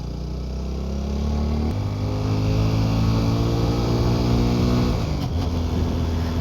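A TVS Apache 200 4V motorcycle engine revs hard close by, climbing in steady stepped pulls, briefly dropping back, then holding a loud, sustained roar.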